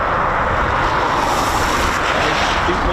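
Eurofighter Typhoon FGR4 jet arriving at RAF Coningsby, a loud, steady broadband jet roar filling the air without letup, close and dominant, with no distinct talk heard over it.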